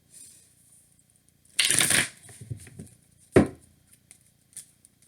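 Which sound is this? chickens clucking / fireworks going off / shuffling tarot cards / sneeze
shuffling tarot cards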